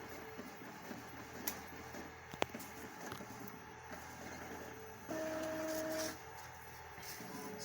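An Epson L3150 inkjet printer prints a nozzle check: a faint, low mechanical hum and soft ticking, then a steadier tonal whir for about a second near the end, all quiet against room noise.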